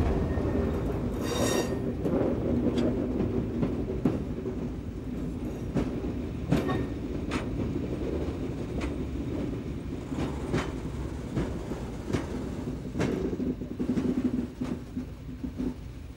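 A Dutch NS mat 54 electric trainset in historic livery moves through the stabling yard on the west side of Utrecht, with a continuous rumble, wheel clatter over joints and occasional high squeals, fairly close and steady throughout.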